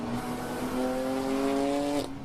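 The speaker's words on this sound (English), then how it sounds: "it's got a lot of texture to the exhaust note." An endurance race car engine at a WRL race at Mid-Ohio, a strong, steady exhaust tone rising in pitch as it accelerates past, loud and close, then cutting off.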